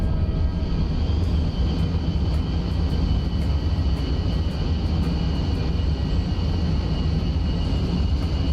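An airplane engine hums in a hangar in Kerbal Space Program, a constant loud drone that holds steady throughout with no talking.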